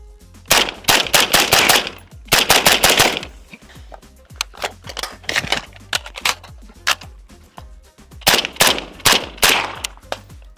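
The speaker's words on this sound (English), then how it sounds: "Let's do a little mag dump, even though I'm super low on ammo." A Beretta M9A4 pistol fired in a rapid mag dump, loud close sharp shots in quick bursts with short gaps between strings, each crack ringing out briefly.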